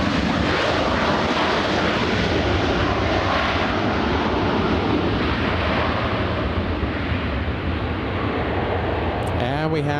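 JetBlue airliner at LAX airport, its jet engines giving a loud, continuous broadband roar that fills the whole span without letup, with faint radio chatter buried underneath.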